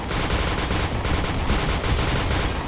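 Rapid, steady automatic gunfire from the champion gun in a first-person shooter, a loud continuous burst of evenly spaced shots lasting a few seconds with no talking.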